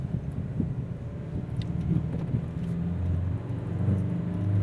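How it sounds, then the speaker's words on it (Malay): An Isuzu D-Max pickup with a 2.2L engine climbs the steep Bukit Kokol hill road, its low engine drone rumbling steadily from inside the cab with faint wind and road noise. "Bunyi engine pun tidak bising kan?"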